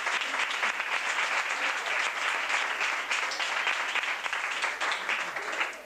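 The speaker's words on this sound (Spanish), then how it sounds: "Y un aplauso." An audience applauds a jazz trio at a live club concert at Laberinto in Sevilla, producing a steady, dense wash of clapping that holds at full strength for several seconds before easing slightly at the end, with no voices over it.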